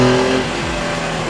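Air-cooled 4.0L flat-six in a Porsche 964 911 revs hard, a loud, close engine note that climbs and then drops back as the throttle eases, with no voices over it.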